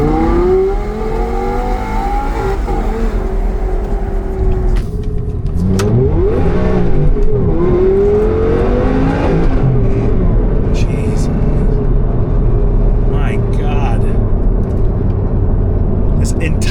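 A supercharged Audi R8 V10 revs and accelerates up close, loud engine sweeps rising and falling through several pulls, with a steady low rumble underneath and voices talking over it.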